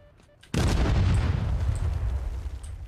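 A sudden loud blast of gunfire or explosion in the World War II shooter Heroes & Generals, erupting after a quiet start and rumbling on in a dense, sustained roar.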